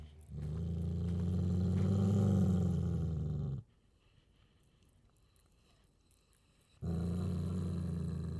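A dog growl from the horror game The Lost Painter rumbles low and loud for several seconds, breaks off into near silence, then starts again near the end.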